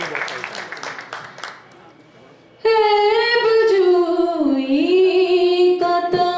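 Audience applause at a live poetry gathering swells briefly, then fades over a couple of seconds before a loud sustained sung voice cuts in and carries to the end.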